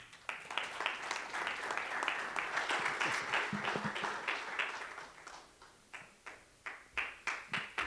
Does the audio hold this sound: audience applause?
yes